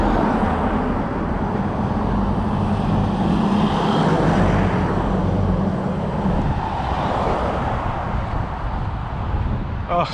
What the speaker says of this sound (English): You noisy fucking cars.